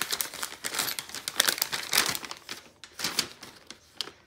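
Small plastic bag holding pins, three bolts, a washer and nuts for a Pelican sled tow hitch, crinkled and handled up close in continuous rustling bursts with faint metal shifting inside.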